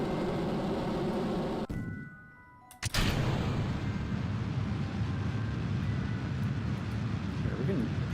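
A rocket engine roars in Kerbal Space Program after a brief drop in sound and a sharp click, a loud steady broadband rush that holds to the end, with some talk over it.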